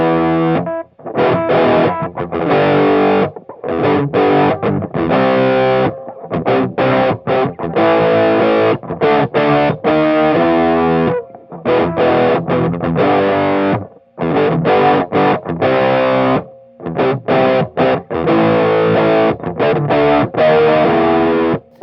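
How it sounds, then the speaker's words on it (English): Electric guitar, an Aria Pro II XR on its humbucker pickup, played through a Boss SD-1 Super Overdrive pedal, gritty distorted chords and riffs strummed in bursts with brief pauses, loud and close throughout. "go right to the Boss Super Overdrive SD1 pedal."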